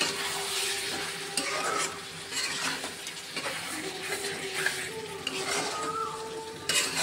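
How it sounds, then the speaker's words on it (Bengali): Young jackfruit curry with spices stir-fried over high flame in a pan, a steady loud sizzle with repeated scraping and clinking of the spatula against the metal throughout, no voices. "আমি আর একটু হাই ফ্লেমে এঁচোড়টাকে কষিয়ে নেব"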